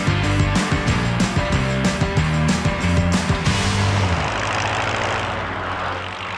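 A propeller-driven snow plane engine at a snow plane rally in Tetonia, Idaho roars loud and close, pulsing in rhythmic surges before settling into a steady drone that fades slightly.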